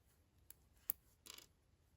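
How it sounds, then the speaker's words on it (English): Scissors snip crochet yarn close by: two sharp clicks followed by a short, crunchier cut, quiet overall against a faint background hiss. "now we can cut the yarn"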